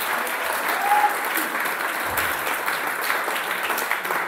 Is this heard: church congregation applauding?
yes